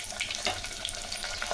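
Sliced chilies and garlic cloves fry in hot oil for a fenugreek curry, with a soft continuous sizzle and light crackle over a short stretch.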